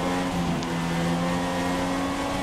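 Formula 1 race car in the video game F1 2016 drifting through a corner, a steady high engine whine with a tonal drone held loudly throughout, no speech.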